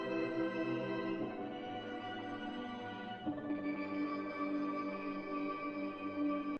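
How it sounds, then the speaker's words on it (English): A sustained spacey ambient synth pad with layered, shimmering tones that hold steadily and shift in texture about halfway through, playing alone without voices. "next we've got this cool spacey ambient synth sound in the second part"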